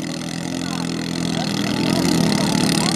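Outboard engine of a racing sampan boat in the grand final of a 2024 sampan race, droning steadily and rising slightly in pitch, heard continuously under an excited commentator's voice.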